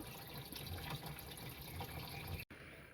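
Water gushes steadily into a washing machine tub as it fills, a continuous rushing flow that cuts off abruptly just before the end.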